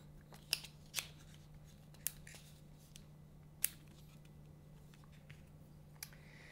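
Soaked, softened cane for a krummhorn reed is cut with scissors or a blade in a few sharp, separate snips spread across the clip, quiet and close, over a low steady hum.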